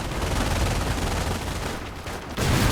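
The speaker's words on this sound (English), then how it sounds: "we're seeing a strafing run" Strafing-run gunfire from an aircraft in the strategy game Company of Heroes 2: a dense, continuous roar of rapid machine-gun fire and impacts, loud throughout with a brief dip before a final burst.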